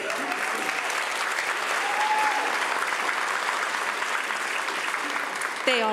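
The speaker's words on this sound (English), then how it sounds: "They all deserve that applause." Theater audience at an arts awards ceremony in the Lyric Theater applauds loudly and continuously, a full sustained roar of clapping with a few faint voices underneath.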